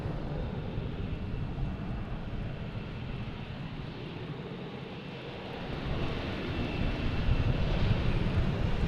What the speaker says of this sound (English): The A340 Star Alliance quad jet.